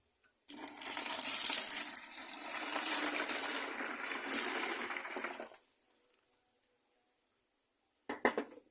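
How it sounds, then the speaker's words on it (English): Water poured steadily for about five seconds into a container of homemade local fruit wine mixture with yeast, a close continuous splashing stream, followed by silence and a brief clatter at the end. "I'm gonna add some water."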